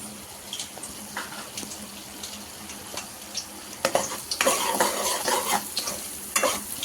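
Carrots fry in a pan for an aloo matar carrot kurma with a quiet hiss, then louder bursts of stirring and sputtering sizzle take over in the second half, with scraping strokes of a utensil against the pan.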